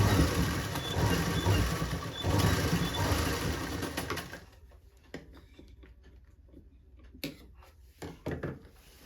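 A sewing machine stitches the hem of a palazzo pant bottom, running in a loud, continuous whir for several seconds, then stopping, followed by quieter clicks and handling knocks.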